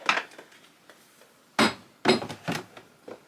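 A spoon clinks and scrapes as two tablespoons of French vanilla ground coffee are scooped into a coffee filter at home, giving a few short, close taps and knocks in bursts separated by near quiet.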